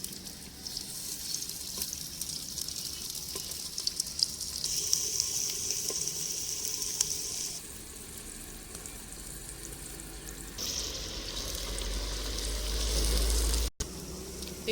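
Three chopped medium onions hit hot oil in a handi, a bright, close sizzle that shifts in intensity as they are stirred, ending with a loud low rumble and a sudden cut.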